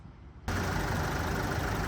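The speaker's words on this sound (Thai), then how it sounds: "นี่ติดเครื่องให้ฟังเสียงกันเลยนะครับ" A 2017 Isuzu D-Max Hi-Lander 1.9 diesel pickup with manual gearbox cranks into life after a brief quiet moment, then settles into a loud, steady, close-up clattering idle.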